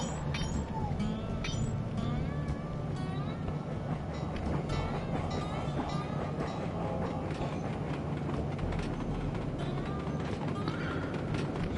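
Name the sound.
train in Sly 2: Band of Thieves video game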